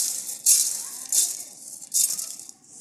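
Whole coriander seeds dropped into a hot pan of frying whole chillies and bay leaves for a plum pickle, giving three bright rattling bursts of spices hitting the oil, close and loud.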